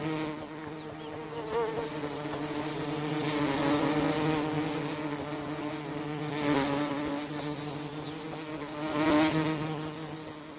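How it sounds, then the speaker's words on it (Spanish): Bees and wasps visiting flowers where hummingbirds feed make a continuous droning buzz with a harmonic whine. The buzz swells and fades as insects pass near, and it carries on throughout with no talking. "cuando los visitantes son abejas y avispas, la cosa cambia."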